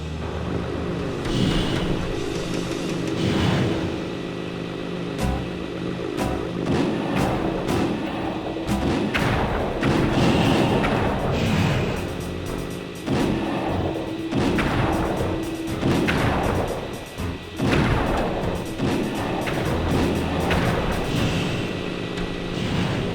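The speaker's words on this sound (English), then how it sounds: "press the square button to fire its turret" Turret cannon fire from a vehicle in Sly 2: Band of Thieves, heard as repeated heavy thuds and booms across a dense layer of game music and effects, with no pauses between them.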